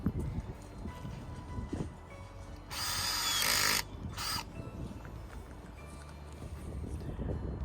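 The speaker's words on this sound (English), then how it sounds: "Okay, so I've drilled 54 holes, which has taken me about 10 minutes, and put my potatoes in." A handheld power drill whirs in a loud burst of about a second as it bores a planting hole in allotment soil for seed potatoes, followed by a shorter burst, with outdoor wind noise throughout.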